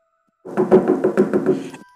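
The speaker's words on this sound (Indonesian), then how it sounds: "Dengan napas yang tidak teratur, remaja itu mengetuk pintu, layaknya seperti dikejar setan." Quick series of about seven firm knocks on a wooden door, evenly spaced and close, used as a sound effect in a horror story, heard alone with no voices.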